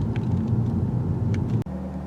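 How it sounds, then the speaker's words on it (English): A 2019 Lexus V8 exhaust, from a GS-F or RC-F, rumbles out of the tailpipe with a deep, steady low drone, close and loud, broken by one sharp click and a brief dip before the rumble resumes. "what's coming out that tailpipe is real because I know you can hear it about a quarter mile away"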